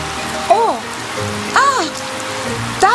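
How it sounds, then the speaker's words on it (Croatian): Water sprays from a garden hose in a cartoon as a steady hiss like falling rain. Short squeaky cartoon voice exclamations pop up three times over the spray. "a tata je otvorio vodu"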